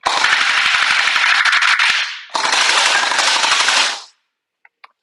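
Splatrball SRB1200 gel ball blaster, custom-built, firing in two sustained full-auto bursts of rapid mechanical rattling, loud and close, separated by a brief gap, then a couple of faint clicks.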